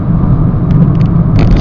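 A 2010 Citroen C3 VTR+ 1.4 HDi driving on the road gives a loud, steady low rumble of engine and tyre noise inside the cabin, with a few faint rattles and knocks.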